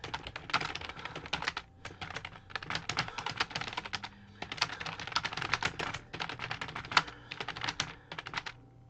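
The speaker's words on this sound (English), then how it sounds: "Typing out a tweet here." Someone types a tweet on a computer keyboard, quick bursts of close, crisp key clicks broken by brief pauses, with no talking over them.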